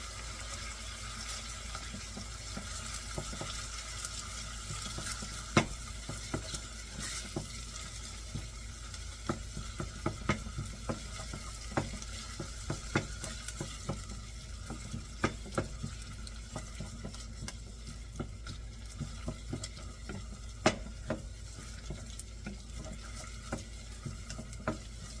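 Food stirred in a frying pan for a Mediterranean low-carb dish, with a steady sizzle under scattered scraping and clinking of the utensil against the pan, continuous and close.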